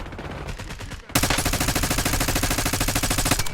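Call of Duty Resurgence match gunfire: a few separate shots, then a sustained loud burst of rapid automatic fire rattling steadily for over two seconds, close and dense.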